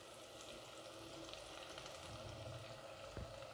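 Tomatoes fry in a pan for baingan bharta, giving a soft, steady sizzle with a faint clink of stirring near the end, quiet and close with no talking.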